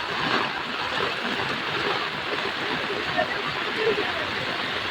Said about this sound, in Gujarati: પુષ્કળ પાણી જાય છે.